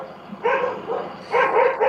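Dogs bark outdoors as a truck pulls up: two bursts of barking at a moderate distance over steady background noise.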